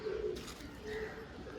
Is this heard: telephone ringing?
no